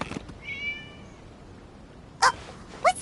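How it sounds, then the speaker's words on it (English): A cat meows a few short times in the video game Genshin Impact, close and clear against quiet ambience, with a faint tonal effect in between. "It was just a cat."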